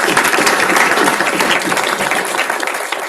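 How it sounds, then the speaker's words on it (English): Warm, loud applause from an audience at a future-of-work symposium, many people clapping close by in a thick continuous patter that eases slightly toward the end, with no speech on top. "We can give them a round of applause."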